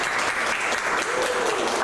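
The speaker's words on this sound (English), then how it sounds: "Please give a round of applause again to Dr. Evan Laksmana." An audience applauds at the close of a university lecture session, a steady dense wash of clapping that holds at an even level throughout with no voices over it.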